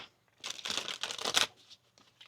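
Tarot cards are shuffled close up in a few quick riffling bursts, a crisp papery flutter that stops and starts briefly with quiet gaps between.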